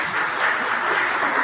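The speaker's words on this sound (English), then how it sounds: "Let us give Dhananjay another round of applause for this fantastic session" Steady applause from a seated audience at the close of a conference session, a dense even wash of many hands clapping together, loud and sustained without a break.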